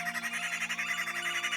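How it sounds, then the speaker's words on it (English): Rapid, rhythmic chirping fills the African bush in a continuous pulsing chorus, moderately loud, over a faint steady hum. "chirping"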